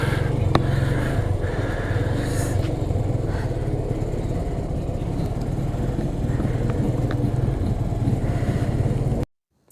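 A motorcycle engine runs steadily at close range for about nine seconds as the rider parks, a continuous low rumble with no talk over it, then cuts off abruptly.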